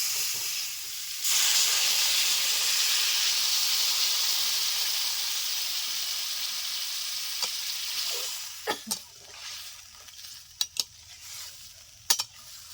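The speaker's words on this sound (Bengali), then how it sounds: "এটা ভাজা ভাজা হয়েছে এখন জল দিয়ে দেবেন" Water hits fried cumin, coriander and chilli in a hot pan for a rohu fish curry with pumpkin, bursting into a loud hissing sizzle that slowly fades, followed by a few sharp spoon clinks.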